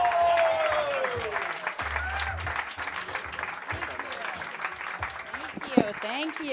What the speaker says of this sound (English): Clap it up for Rosebud Baker!